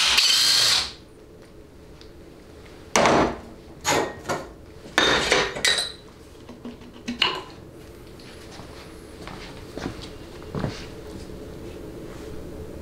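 A hand tool works a 10 mm bolt on the speed sensor of a 700R4 transmission during teardown, making scattered metallic clinks, ratchet clicks and knocks at close range. The sounds are intermittent, then fade to a quiet background.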